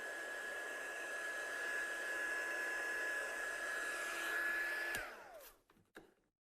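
Heat tool blowing steadily to dry a stamped detail panel for a handmade card, a loud continuous whining drone with a fixed high tone that cuts off near five seconds, followed by a few faint clicks and handling sounds.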